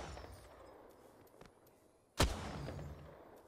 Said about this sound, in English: Who's shooting this charge rifle?